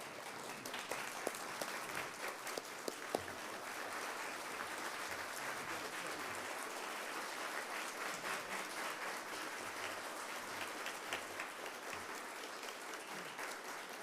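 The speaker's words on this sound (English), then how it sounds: "Can we give Charlie Ball a resounding round of applause?" A memorial gathering gives sustained applause for a remote attendee, a long, even roar of many hands at moderate distance, with a few sharper individual claps early on.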